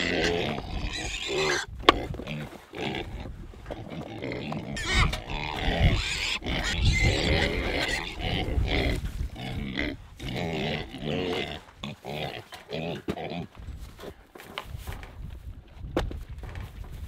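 Pigs on a farm grunt and snort repeatedly in an irregular, close rhythm, the rough low noises overlapping with shuffling and occasional louder squeals throughout.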